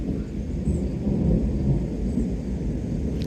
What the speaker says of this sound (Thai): เสียงฟ้าคำราม